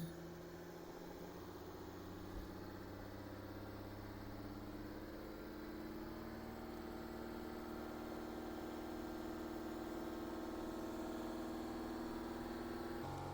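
A Mercedes GLE engine with a blocked DPF runs steadily near idle, then the revs rise gently as the RPM is raised slightly; a continuous close mechanical hum and drone with no talk.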